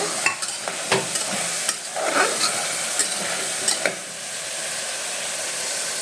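Kadikalu sambar being stirred in a pan, a spoon scraping and clacking against the metal in irregular strokes over a steady low sizzle and bubbling, close and moderately loud, with no talking.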